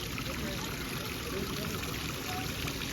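Young girls splashing and playing with water outdoors, a steady broadband trickle and pour of running water filling the whole stretch, with faint voices in the background.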